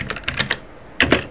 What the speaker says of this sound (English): Now type sudo